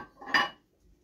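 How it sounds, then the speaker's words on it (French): A utensil stirs mashed banana with oil in a bowl, giving one short clinking scrape against the dish, close by, before it falls quiet. "Ça fait bizarre de mélanger de la banane avec de l'huile."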